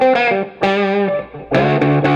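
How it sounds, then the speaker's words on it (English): Electric guitar played through a Giggity overdrive prototype into a Fender Twin amp, with sustained chords and notes carrying mild gain, loud and close, with no voices. "Let's take a listen to the twin now with the little overdrive box."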